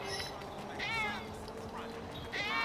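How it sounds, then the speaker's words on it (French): A stray alley cat in Grand Theft Auto V meows twice, a wavering call near the middle and another at the end, over a low background rumble. "C'est un chat, chat de gouttière, je pense"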